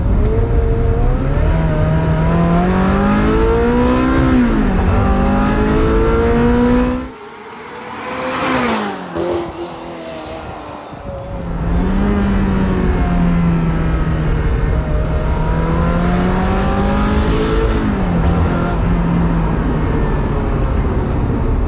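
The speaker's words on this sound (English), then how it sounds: "Welcome to the Ferrari 355. Here's a little blast" A loud, close Ferrari 355 engine revving up and down through high-pitched wails, dipping briefly midway before roaring back with rising and falling revs.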